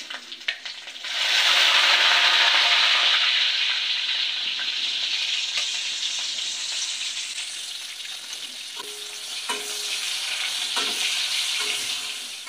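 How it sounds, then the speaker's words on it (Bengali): Sliced onions hit a hot pan still greasy from browned meat, bursting into a loud hiss of frying that settles into steady sizzling, with a few faint clinks and stirring sounds near the end. "এরপরে ভাজা মাংসের কড়াইতে আমি দিয়ে দিব পেঁয়াজ"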